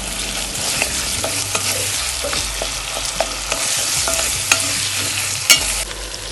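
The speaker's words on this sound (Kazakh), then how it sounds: "Ең алдымен пияз бен чеснокты саламыз. Ол сарғайғанша қуырылуы тиіс." Onion and garlic fry in a pan for a Kazakh nan salma dish, giving a steady close sizzle with repeated light scrapes and clicks of stirring throughout, and no one talking.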